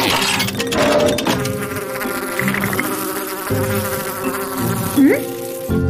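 A fly buzzes in the video game Tohu, a continuous insect drone layered over game music and sound effects, with a brief rising tone near the end.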